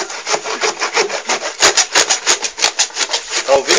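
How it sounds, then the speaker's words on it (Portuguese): A piranha being sawn into portions, a loud close rasping back-and-forth stroke repeated in a steady rhythm, like sawing wood. "É serrando o peixe pra fazer uma porção pra nós comer."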